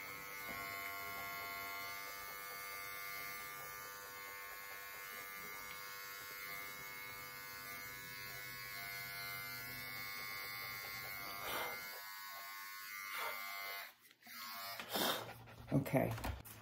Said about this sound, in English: Just get them with the corner of my clipper.